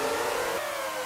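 A Formula One racing car engine in the video game Formula One 2001 whines loudly and steadily in a brief burst, with its high-revving pitch dipping slightly partway through.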